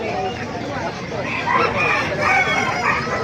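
Several roosters crow over one another amid clucking fowl at a chicken market in Bocaue, Bulacan, a busy chorus of birds with faint background voices.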